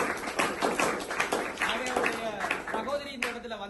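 An audience at a community event claps steadily while a person speaks over the applause, the clapping forming a continuous, fairly loud bed beneath the voice.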